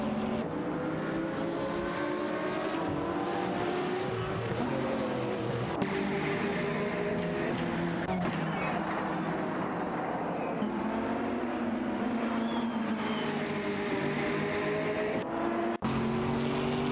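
Race cars in a video game drive a track together, their engines droning continuously with rising and falling pitch sweeps as they run in close proximity.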